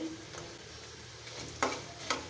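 Okra for crispy chips sizzles softly in hot oil, a low steady frying hiss broken by a couple of sharp scraping stirs near the end.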